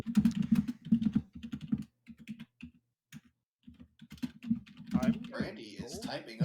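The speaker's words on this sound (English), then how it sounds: "is typing up a storm" Rapid clattering keystrokes on a computer keyboard come in bursts with short pauses, fairly close and steady, and a voice briefly talks over the end.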